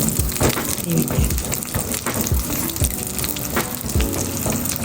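Garlic for a spicy Sri Lankan garlic bite is stirred as it fries in a pan, giving a loud, dense, continuous sizzle with scattered clinks and scrapes of the spoon close by.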